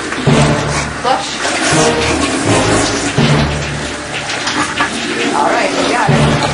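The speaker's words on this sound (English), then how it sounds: "All right, now you can go potty and flush." A dog flushes a toilet, a rushing swirl of water filling much of the clip while a person talks over it, fairly close indoors.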